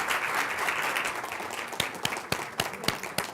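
Audience applause at a communication seminar, a dense patter of many hands clapping at moderate distance, thinning toward the end into a few louder, separate claps.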